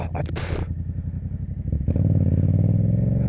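A bone-stock motorcycle doing stunts sits close, idling with a rough pulsing putter after some brief clatter, then revs up into a louder steady drone, with no talking.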